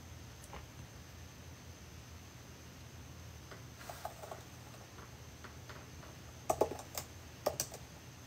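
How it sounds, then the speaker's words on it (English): A computer keyboard is struck hard in a quiet room, with faint, scattered key clicks that cluster into a few louder bursts near the end. "Punching the keys? Shall I fucking do it even harder?"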